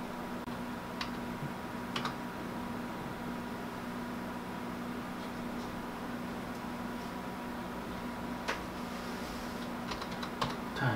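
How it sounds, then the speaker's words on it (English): A computer keyboard is tapped to enter a password, with soft, faint, scattered key clicks over a steady background hum. "here we're gonna put our password in"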